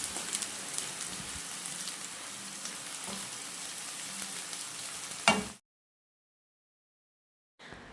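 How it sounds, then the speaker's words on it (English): Spring onions stir-fry in a hot pan for fried rice, a steady close sizzle with occasional stirring clicks, ending in a sharp scrape before a sudden cut to silence and a brief return of frying. "stir fry for about 2 minutes until the onion softens"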